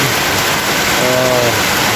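Water rushes through a newly built drainage canal behind a house, a loud, steady, close wash of flowing water with no pauses, and a faint tonal hum briefly underneath.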